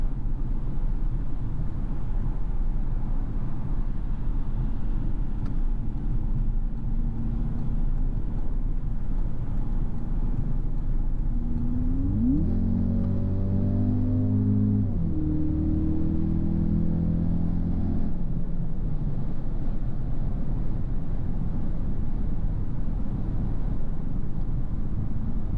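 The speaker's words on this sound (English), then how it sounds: "lot of traffic on Autobahn." Steady road and wind roar from inside a 2026 Audi Q3 S line e-Hybrid cruising on busy Autobahn traffic, loud and constant, with a brief low tonal swell midway, no voices.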